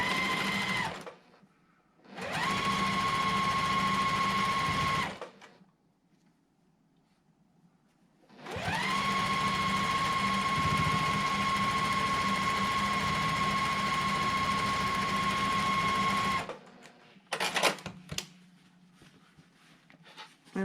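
A sewing machine stitching a quilt block seam, running in two steady whirring bursts with a pause between, close and loud, followed by a few brief handling clatters.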